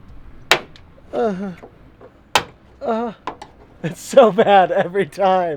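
Brittle 20-year-old plastic trim connectors on a Porsche snap as they are pried loose, giving a few sharp, isolated cracks between stretches of someone talking nearby.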